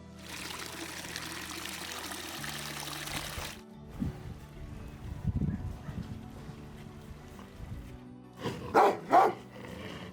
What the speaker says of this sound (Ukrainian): Гарний, гарний собака.